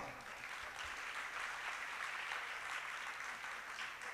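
Audience at a Jain religious discourse clapping together, a steady, fairly faint wash of applause throughout, heard alone.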